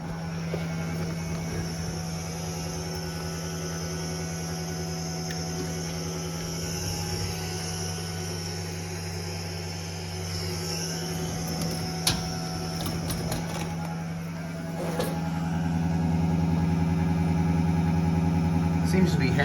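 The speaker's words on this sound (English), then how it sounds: "The reason why it's noisy is there's almost no gas in this tank to insulate the sound around the pump" Electric fuel pump in a square-body truck's nearly empty gas tank whirs with a steady, fairly faint high hum under a low drone, with people talking over it.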